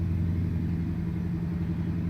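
A Caterpillar C15 550 truck engine in American Truck Simulator drones steadily at cruising speed, a low constant rumble with no clear revving, alone and close.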